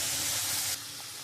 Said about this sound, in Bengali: তার তেলের মধ্যে আমি জিরে আর তেজপাতা ফোড়ন দিয়ে দেবো